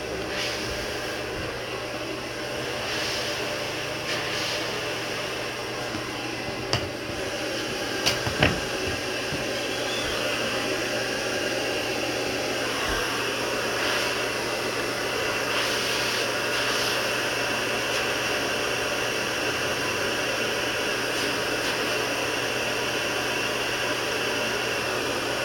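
A hair dryer blows steadily while styling a classic hairstyle, a constant airy whir running close and continuous throughout, with a few faint clicks and handling knocks.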